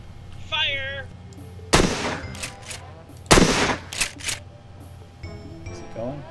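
Gunfire aimed at a tractor in the survival game Miscreated, with two loud heavy shots a couple of seconds apart followed by smaller cracks, amid background rumble and some game sounds.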